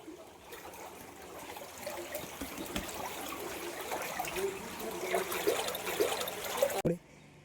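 Flood water trickling and splashing inside a flooded canteen in Kolkata, a steady wet wash that runs for several seconds under people talking, ending in a sharp knock.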